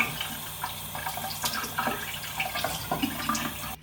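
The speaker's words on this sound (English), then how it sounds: "I just rinsed off my eyebrows and my face" Tap water running steadily into a sink while rinsing off eyebrows and face, a close, continuous splashing stream with small bursts of splatter as hands move through it.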